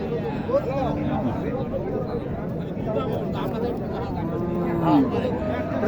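Sahiwal and other cattle lowing at a busy cattle market in Naogaon district, with several deep moos rising over a steady crowd murmur and nearby voices.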